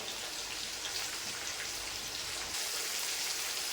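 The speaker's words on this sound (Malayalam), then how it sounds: "കടുക് ഒന്ന് പൊട്ടട്ടെ." Mustard seeds popping in hot oil as a chicken curry is being started, a dense, steady crackle of tiny pops that grows slightly louder toward the end, with no talk.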